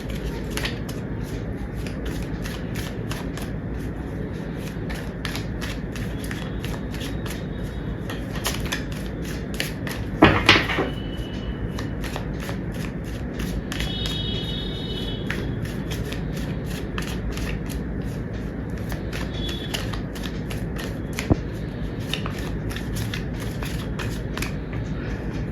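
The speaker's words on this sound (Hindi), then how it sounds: "जब तक मैं कार्ड शफल कर रही हूँ" Tarot cards are shuffled in a steady, soft flutter of papery riffles and flicks that runs throughout, close and quiet, with one brief louder rustle partway through.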